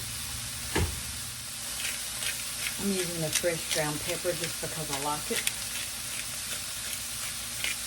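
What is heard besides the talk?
peppers and onions sauteing in a pan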